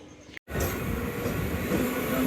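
A goods train rolls past a railway station platform at night, a loud steady rumble of wagons with a brief squeal of wheels, heard close after a short cut.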